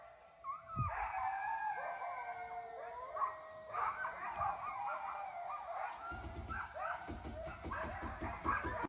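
Coyotes howl at night in the Appalachian Mountains, several wavering, overlapping howls rising and falling at moderate distance, breaking into sharper yips and barks toward the end.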